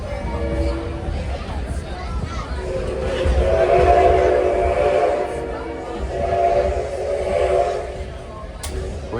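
Train horn and whistle sound at Scranton Railfest, a long harmonic blast swelling and fading twice over the rumble of rail equipment, with people talking nearby.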